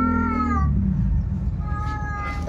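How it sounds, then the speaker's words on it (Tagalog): A cat meows loudly and insistently at close range, one long drawn-out yowl followed by a second call, over a steady low background hum. "Tapos maririnig mo nga yung ingay ng pusa."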